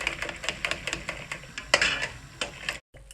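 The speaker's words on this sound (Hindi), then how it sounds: "अब हम इसको चमचे से इस तरह फेंटेंगे।" A spoon briskly whisks bread pudding mixture with condensed milk in a bowl, giving quick rhythmic scraping and clinking strokes, close and steady, ending in a brief pause.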